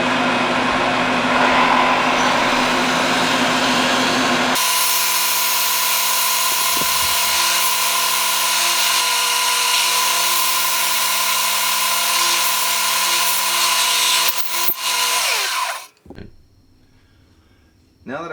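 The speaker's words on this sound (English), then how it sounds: "I want to drill a 1/2 inch hole in the end of my stick. So I've set up a jig here with a board to rest it up against, and a horizontal drilling press" Horizontal drill press boring a half-inch hole into the end of a croquet mallet stick, a loud steady motor whine with grinding as the bit cuts, then a sudden stop and near quiet.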